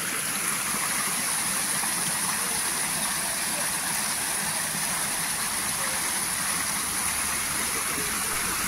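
Tai Shui Hang waterfall and mountain stream in Hong Kong, a steady broadband rush of falling and flowing water, continuous and fairly loud, with no breaks throughout.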